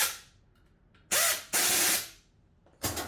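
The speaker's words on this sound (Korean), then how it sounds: "에어드라이버로" A pneumatic air driver tightens wrench bolts on an F30 pin nailer's magazine and driver guide. It gives several short, loud bursts of whirring and hissing air separated by brief pauses, close up with no talk.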